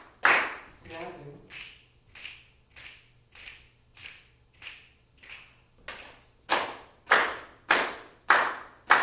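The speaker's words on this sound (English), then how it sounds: "slapping." Body percussion in a rhythm lesson, with slaps alternating with claps in a steady beat. Softer, duller hits give way to sharper, louder ones, about a dozen evenly spaced, close and alone.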